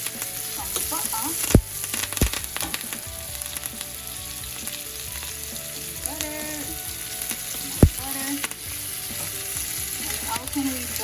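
A ribeye steak sizzles steadily in a pan with butter, fresh thyme, rosemary and garlic, a close, continuous crackling fry broken by a couple of sharp clinks and scrapes.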